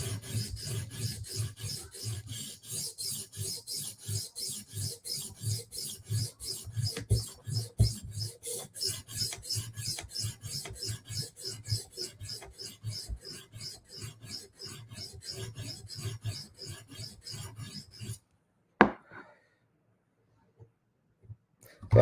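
A blade is sharpened to raise a burr, long run of rhythmic rasping strokes, close and steady, then stopping abruptly near the end followed by a brief knock and quiet.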